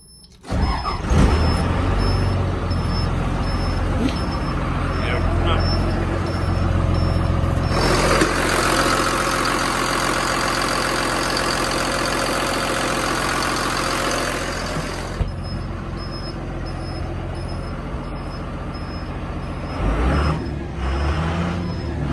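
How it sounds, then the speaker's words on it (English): A 190-horsepower Cummins ISB 5.9 diesel truck engine cranks and starts, then settles into a steady, rumbling idle with a stretch of louder revving in the middle. "Engine starts well."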